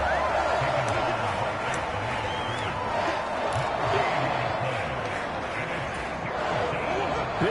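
Stadium crowd noise in Madden 24 during a Bears at Lions game on third down, a dense, steady roar of cheering fans that holds loud throughout, with talk mixed in.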